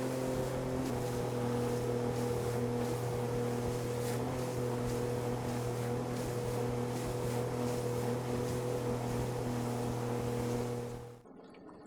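The boat Tangaroa cruises on the Salish Sea with a steady engine drone and rushing water and wind noise throughout, then cuts off abruptly at the end.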